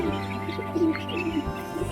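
A male pigeon coos close by, a few short rolling calls over a low hum from other birds.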